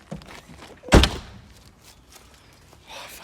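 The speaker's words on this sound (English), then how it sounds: "Just shut the doors a minute." A Volvo XC70 car door shuts with one solid, close thunk near the middle. Quieter shuffling and faint movement noises come before and after it.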